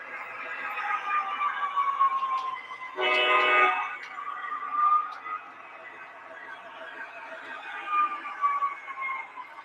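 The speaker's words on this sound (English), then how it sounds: "So this is the new Santa diesel from MTH" An MTH Rail King Santa Fe diesel model train running steadily nearby with a continuous electric hum and rolling whir, a short louder horn blast in the middle.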